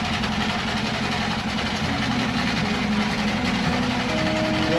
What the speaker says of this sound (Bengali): যেহেতু নৌকার ইঞ্জিন চলতেছে এই জন্য হয়তো কথা ক্লিয়ার নাও আসতে পারে